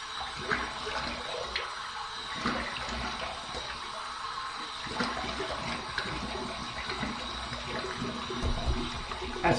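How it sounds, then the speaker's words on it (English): Warm water is splashed onto the face from a sink to rinse after a wet shave, with close splashes and dripping over running water. "Here's my warm water rinse."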